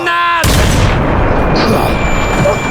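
A grenade blast in a French-language team combat game: after a short voiced lead-in, a loud, sudden boom bursts out and rolls into a long, noisy rumble that fades slowly across the rest.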